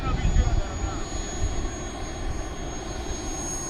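An FMS 1700mm Corsair V3 RC warbird on 6S power with a new propeller drones through a touch and go, its motor a steady mid-distance hum under wind noise and outdoor ambience.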